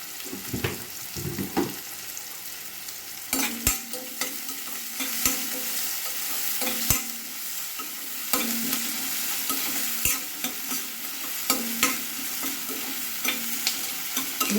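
Onions sauté in a pan for an okra tamarind dish, with a continuous sizzle broken by repeated sharp clatters and scraping strokes as they are stirred, close and fairly loud.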